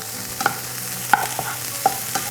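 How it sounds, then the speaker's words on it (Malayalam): Two chopped onions sauté in a pan for an egg masala, a steady sizzle under several sharp clinks and scrapes of a spoon stirring at irregular intervals, close and alone. "നമുക്ക് രണ്ട് സവാള ചെറുതായിട്ട് ചോപ്പ് ചെയ്ത് നല്ലോണം വഴക്കിയെടുക്കാം"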